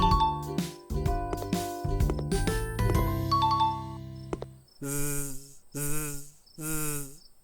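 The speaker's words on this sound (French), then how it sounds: "ce sont les abeilles qui font ce bruit" Tinkly cartoon-style music gives way to three loud, droning cartoon bee buzzes in a row, each about half a second long, like insects buzzing up close.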